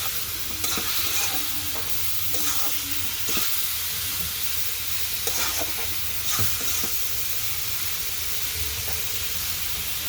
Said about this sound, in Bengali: এখন আমি একটু নাড়াচাড়া দিচ্ছি।